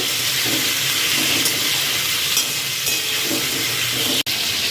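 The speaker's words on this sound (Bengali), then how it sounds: "চিংড়ি মাছটা আমি ভাজা করছি এখানটা" Prawns fry in a hot pan for a Bengali prawn curry, giving a steady, close, continuous sizzle and crackle throughout, with one sharp click near the end.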